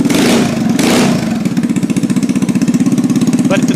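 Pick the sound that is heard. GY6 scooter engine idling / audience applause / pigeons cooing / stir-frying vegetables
GY6 scooter engine idling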